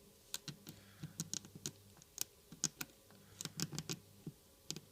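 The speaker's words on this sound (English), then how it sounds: "I'm just going to scribe the plastic with the needle like" A needle scribes the plastic of a Coke bottle in a quick run of sharp, dry scratching clicks, irregular and close, over a faint low hum.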